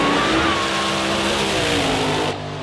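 Drag race cars launching at Northstar Dragway in a Pro Mod versus Fuel Altered showdown, a loud, sustained roaring engine blast with rising pitch that drops off sharply near the end.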